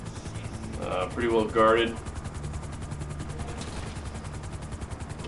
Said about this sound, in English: we'll go ahead and land the chopper here